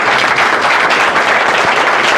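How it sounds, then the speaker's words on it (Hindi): Audience applause from a crowd at a talk or seminar, dense and steady clapping that fills the whole stretch at close range with no speech over it. "एक बार ताली बजा दीजिए इनके लिए भी।"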